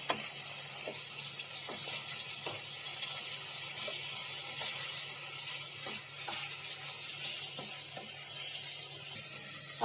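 Bottle gourd and green chillies sizzle softly in a pan while being stirred, a low steady hiss broken by occasional light scrapes and taps of the spoon.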